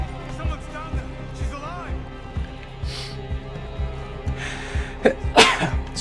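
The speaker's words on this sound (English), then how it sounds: "I'm gonna sneeze." A person sneezes loudly near the end, a sharp burst after some talk and breathing, with game sounds and speech running underneath throughout.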